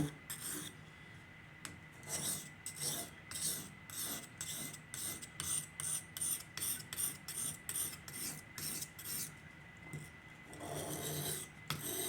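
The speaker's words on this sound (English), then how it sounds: "this is the fine side of my sharpening stone" A steel knife blade is drawn across the fine side of a sharpening stone in steady repeated rasping strokes, close and clear with no talking, the rhythm quickening in the middle before a longer final rub.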